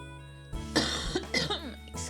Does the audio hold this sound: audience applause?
no